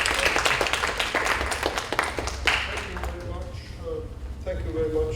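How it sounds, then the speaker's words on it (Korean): Audience applause at a KBS ABU international media forum session, a dense wash of clapping that fades toward the end, with voices talking over it. "다시 한번 큰 박수 보내주시기 바랍니다"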